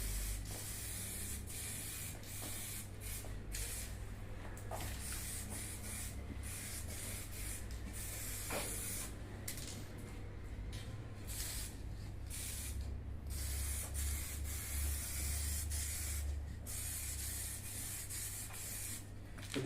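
A spray gun lays a thick coat of 2K lacquer onto a Land Rover Discovery 2 Td5 bonnet, producing a steady, close hiss that runs unbroken throughout, with faint soft knocks and rustles underneath.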